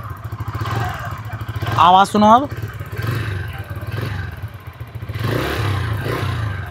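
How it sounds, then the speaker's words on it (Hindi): A Bajaj Freedom CNG motorcycle idles on CNG with a steady low engine beat and a faint light ticking, while someone talks over it at close range. "आवाज़ में हल्का सा आपको टिक टिक टिक टिक डिफरेंस पता लगेगा, बहुत हल्का सा"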